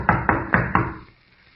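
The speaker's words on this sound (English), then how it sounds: "Pounding on the door isn't going to do any good either." Four heavy, evenly spaced knocks pound on a door, loud and close, in an old radio detective drama; the blows stop abruptly and leave near silence.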